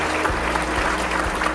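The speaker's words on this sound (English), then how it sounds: "Let's give them a round of applause." A short burst of steady applause from an audience at a company event as two guests are invited on stage, a dense even wash of clapping with a low hum beneath.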